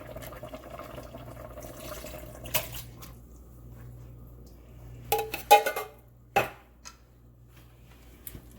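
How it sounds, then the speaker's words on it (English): Stewed tomatoes with their juice poured into a pot of vegetable soup, giving a few soft splashes and clinks of metal and dishes against a low steady background hum. "So now I'm going to go in with some stewed tomatoes. Pour the juice and all in there."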